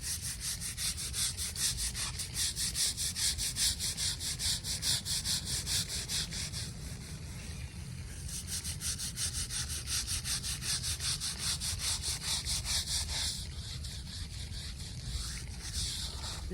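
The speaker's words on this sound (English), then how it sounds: "Let me just do one little more scrub here." A brush scrubbing a gravestone in a cemetery, fast rhythmic rasping strokes in steady bursts, close by and moderately quiet, with no talking.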